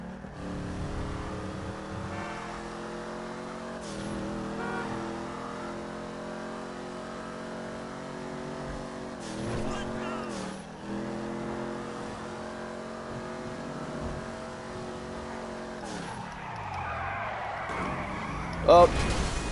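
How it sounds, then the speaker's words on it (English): A Ford Mustang's engine in GTA 5 growls steadily and loud throughout, with rising and falling revs and brief dips as the car shifts, a sharp knock near the end, and a voice talking over it. "I love the sound that they did for this car. It's so mean, so aggressive."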